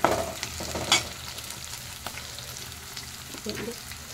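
Onion, tomato and green chilli frying in a pan, a soft sizzle with a few stirring scrapes and clinks, fairly quiet and close, no talking.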